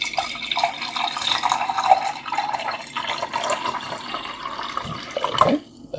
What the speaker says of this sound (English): So I'm going to go ahead and put some water in this cup here.